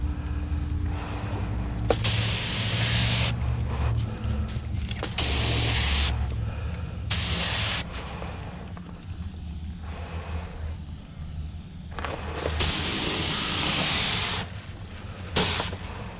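A spray gun lays base coat on a car's quarter panel during an autobody spot repair, with several bursts of hissing spray separated by pauses under a low steady hum.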